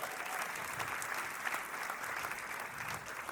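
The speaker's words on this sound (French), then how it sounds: "Vous pouvez applaudir un petit peu." A church audience applauding, dense continuous clapping from a large crowd blending into a steady wash, somewhat distant and fairly faint.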